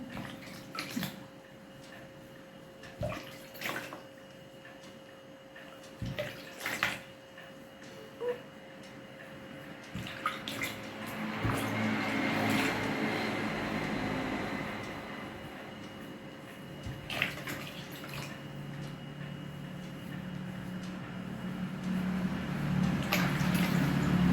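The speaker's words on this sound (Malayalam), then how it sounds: "നമുക്ക് ഫേസ് ഒന്ന് വാഷ് ചെയ്തിട്ട് വരാം" Water runs and splashes at a sink as a face is rinsed clean after a glycerin face pack, a steady wash of noise building through the second half with no talking.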